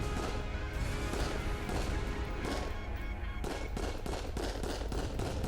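Repeated pistol shots ring out in the VR shooter Raw Data, a run of sharp, closely spaced bangs over dense, loud game noise with no voices.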